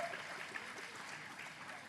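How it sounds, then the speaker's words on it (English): An audience at an Igbo arts and culture festival clapping steadily, a faint, dense patter of many hands heard from a distance across the hall. "Clap for them"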